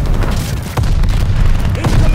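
A grenade blast in the Call of Duty: Vanguard video game, a loud, dense low boom filling the whole short stretch with rumbling battle noise.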